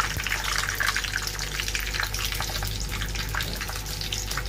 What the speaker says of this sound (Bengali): তারপর আমি এখানে পেঁয়াজ রসুন এগুলো ভালোভাবে লাল করে ফ্রাই করে নেব